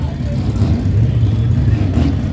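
A VW Gol 4x4 race car accelerating down a drag strip, a loud low engine roar rising strongly over a short run.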